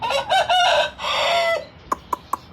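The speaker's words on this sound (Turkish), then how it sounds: "bizim horoz bu" A farm rooster crows nearby, a loud drawn-out call in two long bursts, followed by three short, sharp clucks spaced evenly apart.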